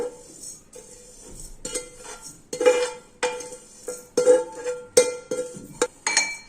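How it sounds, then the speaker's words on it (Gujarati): Roasted whole spices being coarsely pounded in a mortar and pestle for an instant carrot, radish, chilli and ginger pickle, with a steady series of sharp, close knocks and clinks, some louder than others, and no talking. "હું અત્યારે ખાંડણીમાં વાટીશ"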